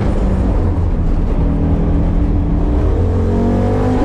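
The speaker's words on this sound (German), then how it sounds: "Jessie fährt ja gleichzeitig gerade mit dem S1 Quattro" An Audi Sport Quattro S1 rally car drives nearby with its engine droning loudly and continuously, a deep, steady rumble whose tone climbs slightly as the car pulls along.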